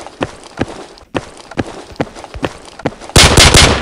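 Gunfire in the video game H.I.D.E: a run of sharp single shots about every half second, then a dense rapid burst at the end, loud and close.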